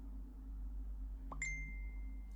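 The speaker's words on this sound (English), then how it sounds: "sorry that was my phone" A mobile phone notification chime rings once nearby during an indoor acrylic nail session, a bright single ding that lingers briefly over a quiet low hum, with no talking.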